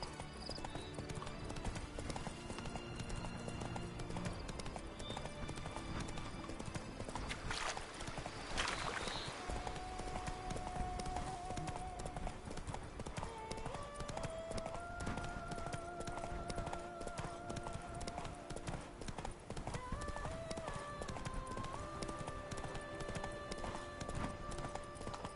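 Roach the horse trots in The Witcher 3, hooves clip-clopping in a steady rhythm over a continuous wash of game music and ambience.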